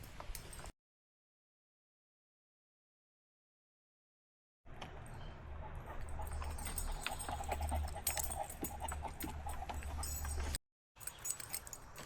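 A puppy on a walk pants steadily and fairly close, with a stretch of silence before it and a short cut near the end.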